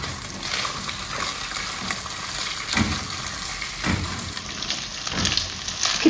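Food being browned in a pan at home, giving a continuous soft sizzle with a few louder bursts and gentle scraping as it is moved around.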